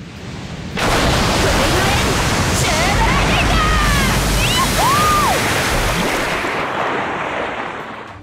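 A crashing wave attack effect from the Fate/Grand Order game: a loud, sustained roar of surging water swells in and holds for several seconds with a few high swooshing accents, then tapers off, with no talk over it.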